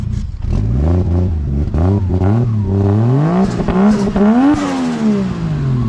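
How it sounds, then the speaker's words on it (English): A 1JZ-swapped 1987 Toyota 4Runner driving down the road, its engine rising and falling through the gears, loud and close, with a rising whine sweeping up as it accelerates, no voices. "I hear that turbo whine. And that sounds good going down the road, don't it?"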